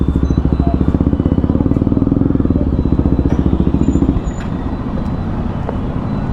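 A motorcycle engine thrums loudly and close during a street ride, with a steady rapid pulsing beat that eases slightly near the end. Faint road noise sits underneath.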